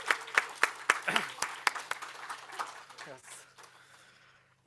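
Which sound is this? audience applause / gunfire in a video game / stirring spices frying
audience applause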